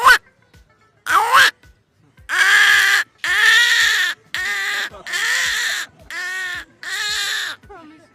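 A man mimics an old crow cawing from a treetop, producing a run of loud, close, drawn-out harsh caws, two short ones followed by longer wailing calls in steady succession.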